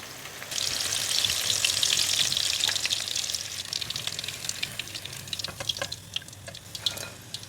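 Chicken pieces fry in hot oil toward golden brown, a dense steady sizzle with bubbling, while a wooden stick stirs them from the center and clicks faintly against the pan near the end.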